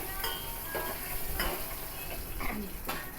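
Quiet sizzling of tempering spices frying in oil, with a few light scrapes and taps of stirring.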